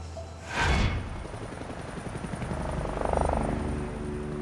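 Rescue helicopter over the Colorado Rockies, a steady chopping rotor drone that swells slightly toward the end, following a sharp whooshing burst at the start.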